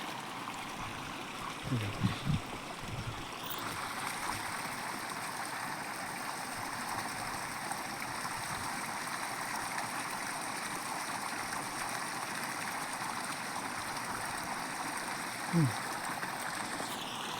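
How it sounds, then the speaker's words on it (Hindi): Clean water pours steadily into a fish-farming pond in a quiet Himachal village, a continuous broadband rush of flowing water that stays even throughout, with a few brief knocks and no clear talk. "तो इसमें साफ पानी छोड़ा जा रहा है यहाँ से"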